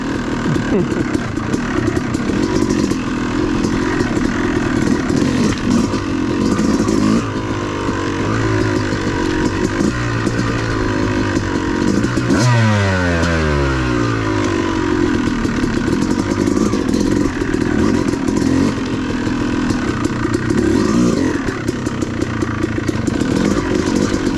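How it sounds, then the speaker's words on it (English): Dirt bike on an off-road trail at Brown Mountain OHV, engine close and loud throughout with steady revving, rising and falling pitch as the throttle opens and closes, including one sharp pitch sweep midway. "Love this dirt bike."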